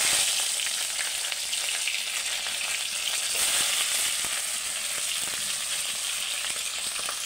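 Fish fry in hot oil in a wok-style karahi, a steady loud sizzle with crackling pops running throughout, close and without talk.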